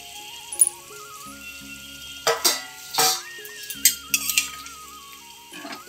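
Fried katla fish pieces going into a pan of thin curry, with utensil clinks, scraping stirs and soft sizzling bursts over a faint background tone.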